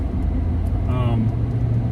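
A steady low engine rumble from an idling EcoBoost turbo pickup truck on a zero-degree morning, close by, with a brief murmur of voices partway through.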